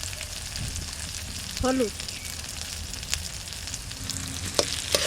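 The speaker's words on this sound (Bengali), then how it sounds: "মশলাটা আমার ভালোভাবে কষানো হয়ে গেছে, মশলার গা থেকে একটা তেল ছেড়ে দিয়েছে" Spice paste of dried chilli paste, tomato, salt and turmeric fries in a pan with a steady close sizzle, brief stirring scrapes, and a voice speaking briefly over it.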